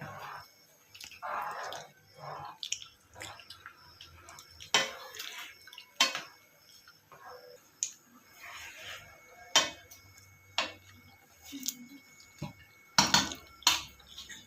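Chakolya get mixed in a pot, with scattered close clinks and scrapes of a spoon against metal and soft wet stirring between quiet gaps.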